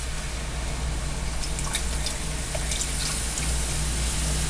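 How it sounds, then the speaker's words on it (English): Milk and cream are poured into a gravy roux, giving a steady liquid pour and faint sizzle with small drips, close and continuous against a low background hum. "I'm going to start bringing in the milk and cream"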